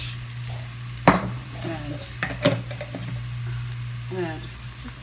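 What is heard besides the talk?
tin fish frying in a pan for fish cutlets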